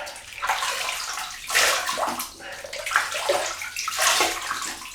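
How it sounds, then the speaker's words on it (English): Water splashing and sloshing as hot water is cupped onto the face before a shave. Several close bursts of splashing rise and fall over a few seconds, with no talking. "I just wet the face"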